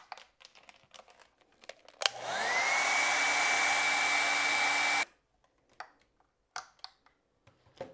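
A hair dryer blows for about three seconds, drying blue acrylic paint during a painting session, steady and loud, starting and stopping abruptly among soft scattered tapping and rustling.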